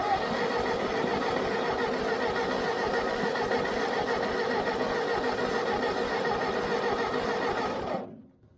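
An old Ford 8N tractor engine cranks steadily and close for about eight seconds while being checked for spark, a continuous rapid churning that stops abruptly at the end.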